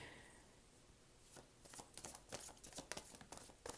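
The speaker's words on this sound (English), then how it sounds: "Let me finish shuffling these first." Tarot cards being shuffled, soft and close: quiet at first, then a run of quick papery riffles and snaps in a rapid irregular rhythm.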